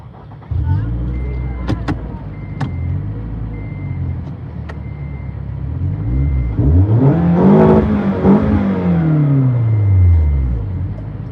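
A Toyota with a TRD exhaust revs loudly up close, the engine climbing and falling through a couple of throttle blips and a longer rise and drop, with brief voices and background noise around it.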